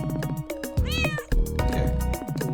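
A cat meows repeatedly in the animal RPG video game Uncharted Territory, loud and near with a few drawn-out pitched cries over a background music track, no talking.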